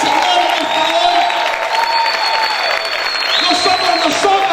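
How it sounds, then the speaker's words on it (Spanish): A church congregation applauding loudly and steadily during a worship service, the clapping continuous throughout with a crowd murmur and singing or voices running underneath. "Aplauda fuerte al Señor en esta hora."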